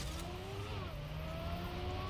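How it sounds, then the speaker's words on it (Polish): Car engine from the racing game Trackmania 2 Stadium, a steady whining drone with a rising and falling pitch, sounding continuous and fairly close with no talk over it. "wydaje dźwięki chociaż trackmaniowe, w sensie silnika"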